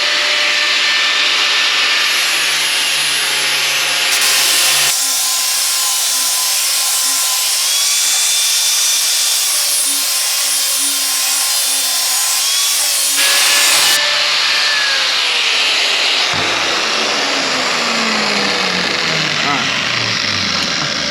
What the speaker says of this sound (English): so we get the grinder real quick. We'll bevel these edges.